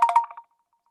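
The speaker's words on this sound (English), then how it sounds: "Can y'all hear that ringing?" Laptop ringing with an incoming call: a short burst of tonal ringing, about three quick chirps followed by a few softer tones, then silence, fairly clear and alone.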